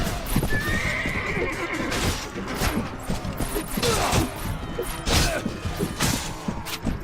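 Horses in the Mount & Blade medieval combat game, with repeated hoof clip-clops and thuds, loud whinnying neighs breaking through, and clashing battle noise around them, no voices.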